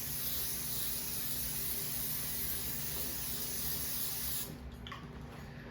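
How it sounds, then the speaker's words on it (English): Cooking spray hisses steadily onto a baking rack set on a cookie sheet, a close, continuous spray that stops abruptly near the end, with no talking. "I'm going to spray the rack."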